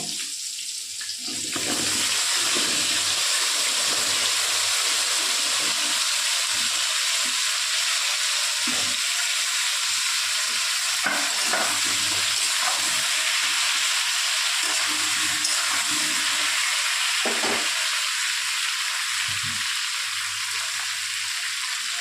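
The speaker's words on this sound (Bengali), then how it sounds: "এবার আমি কড়ার মধ্যে ওই তেলের মধ্যেই আমি পটলটাকে ভালো করে ভেজে নেব" Pieces of pointed gourd fry in oil in a wok, giving a steady, close, even sizzle that runs the whole time with a few faint clinks and stirs underneath; no one speaks.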